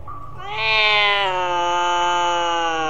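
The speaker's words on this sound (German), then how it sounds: "Die Katze ist wahrscheinlich auch infiziert." Cat meowing in the horror video game Mysteries of the Undead, a single long, loud, drawn-out rising-then-sustained meow heard close and alone over faint background noise.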